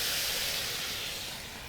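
Chicken stock poured into a hot pan sizzles with a loud, airy steam hiss that is strongest at the start and slowly fades over a couple of seconds.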